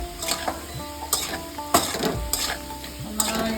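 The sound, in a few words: potatoes frying and being stirred in a pan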